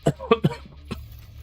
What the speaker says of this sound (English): I'm gonna keep coughing all night.